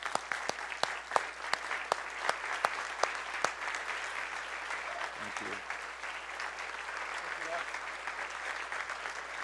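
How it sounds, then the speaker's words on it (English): Standing audience applauding veterans at a Veterans Day salute, a dense steady wash of clapping that runs the whole time, with sharp louder individual claps near the start and faint voices murmuring underneath. "Let's stand up and just give them applause."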